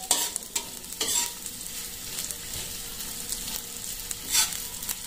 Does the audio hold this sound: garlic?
yes